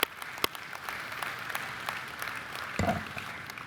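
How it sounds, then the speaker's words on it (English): Scattered, fairly quiet clapping from an audience at a convention business session honoring appointments and endorsements, with a few distinct claps and a brief low thump partway through. "Let's give them a round of applause for their appointments and endorsements."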